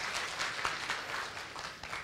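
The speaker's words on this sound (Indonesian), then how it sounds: "Tepuk tangan untuk kita semua." Audience applause at a congress talk show on Javanese script, a sustained wash of many hands clapping together for about two seconds, steady and fairly close, with no voices over it.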